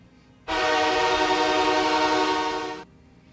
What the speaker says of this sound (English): I genuinely do really like the LA goal horn. It is freaking amazing. It's just boom in your face, like deep